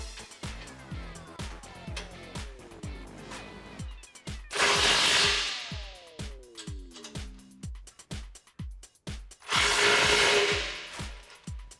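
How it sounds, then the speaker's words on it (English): A ratchet socket wrench with an 18mm socket tightens bolts on a front skid plate of a 2010-2018 Jeep Wrangler JK, giving rapid close clicking ratchet strokes, broken by two bursts of a louder power tool. "tighten them down with an 18mm socket"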